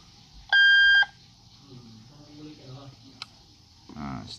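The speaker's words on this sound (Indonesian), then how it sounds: "Kita restart dulu sampai dia berbunyi." A CCTV camera beeps once after a restart, a steady electronic tone of about half a second, followed by quieter background sounds and a faint click.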